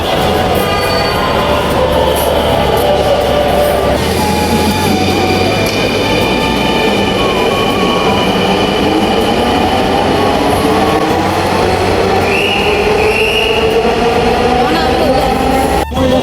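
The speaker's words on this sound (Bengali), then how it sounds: "এখন একটা ট্রেন চলে গেছে" A Dhaka Metro Rail train rumbles steadily through a station, with a continuous roar and faint screeching of wheels and brakes; no words are spoken.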